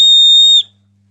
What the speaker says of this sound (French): le pommeau de cette ombrelle qui est en fait un sifflet